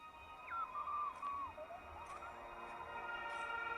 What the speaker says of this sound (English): Did you hear that? Same beeping sound.